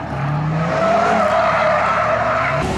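An all-wheel-drive car skids with loud, sustained tire squeal over engine roar, one long continuous slide close by that cuts off sharply near the end.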